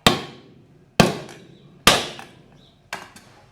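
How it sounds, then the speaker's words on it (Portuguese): A wooden block struck against the floor while fixing an Electrolux LTE12 washing machine, giving four sharp, loud knocks spaced about a second apart, each ringing briefly before fading, with no voices. "colocar um toco de madeira no chão e vão bater"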